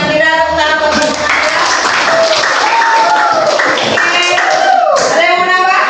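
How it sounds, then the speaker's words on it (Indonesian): A group claps for a participant in an academic supervision coaching session, loud clapping that runs for several seconds under voices. "Tepuk tangan buat Nabila."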